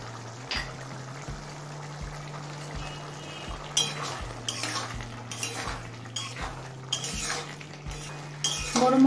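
A spoon stirring garam masala into a potato, fig and prawn curry: repeated scraping and clinking against the pot in irregular strokes, with a low steady hum underneath and no talk.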